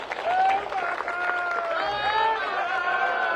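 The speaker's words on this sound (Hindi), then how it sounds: "जरा जोर से ताली बजाइए, जरा जोर से" Crowd applauding and cheering at a public political rally in Kamthi, with a steady wash of clapping and a loud announcer's voice over it throughout.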